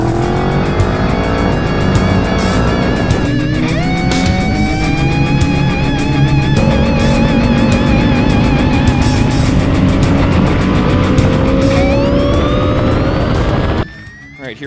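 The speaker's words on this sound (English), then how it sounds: "listen to the exhaust" Loud, continuous exhaust roar from a 2015 KTM 1290 Super Duke R motorcycle with an Arrow exhaust, revs rising and falling, steady throughout and cutting off abruptly near the end.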